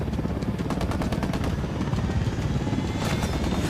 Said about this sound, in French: Un hélico à plein ventre.